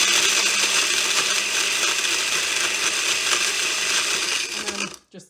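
Blender whirs loudly while crushing ice for a chai tea frappuccino, a dense steady grinding roar that cuts off abruptly near the end.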